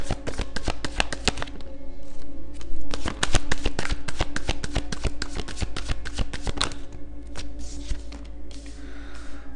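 Tarot cards are shuffled by hand up close, a long run of quick crisp riffles and slaps that stays fast and steady, with no talking.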